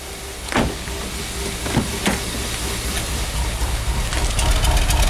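A 2014 VW Jetta with a GDI turbo engine and an intermittent misfire runs rough nearby, a steady loping drone broken by a few sharp uneven pulses.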